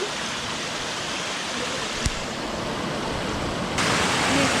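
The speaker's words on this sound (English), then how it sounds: "we're about to start our climb up the waterfall" Steady, dense roar of rushing water from a waterfall on the Sky Pond trail in Rocky Mountain National Park, constant and loud throughout, growing slightly stronger near the end.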